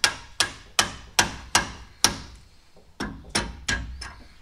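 A hammer striking a steel punch on a rat rod tow truck, giving about a dozen loud sharp metallic blows in a steady rhythm, each ringing briefly, close and alone.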